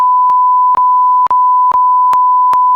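A loud, steady censor beep tone masks speech for nearly three seconds, broken only by a few tiny dropouts and faint clicks where the bleeped words shift.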